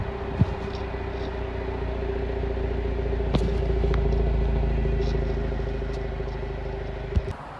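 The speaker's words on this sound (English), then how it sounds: "we just turned the car on, and I'll put it up to it, but there's a very minimal sound" Car with an aftermarket exhaust tip fitted idles close by in a low, steady rumble with a faint hum, a couple of brief knocks and clicks over it.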